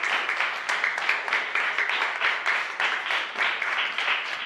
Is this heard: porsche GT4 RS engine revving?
no